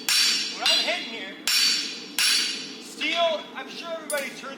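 A hammer rings sharply on hot steel at an anvil while forging tongs, several loud metallic strikes in an uneven rhythm, each with a bright clanging decay.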